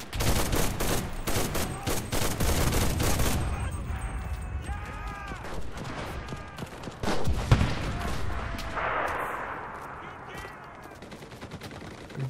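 Machine gun fire in the video game Enlisted, in a Battle of Berlin fight at Lehrter Bahnhof: dense rapid bursts of automatic gunfire over the first few seconds, then scattered shots and booms amid a busy battle soundscape.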